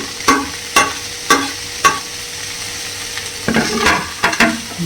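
Ginger and garlic fry with tomatoes in a pan for paneer butter masala, a steady close sizzle broken by repeated scraping stirs of a spoon against the pan.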